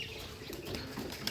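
A white Rajshahi Giribaz pigeon flaps its wings while flying off, a faint, quick fluttering burst heard close by with no talking.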